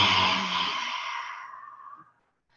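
A single forceful breath pushed out through an open mouth during a yoga and meditation session, a loud breathy rush that fades away over about two seconds.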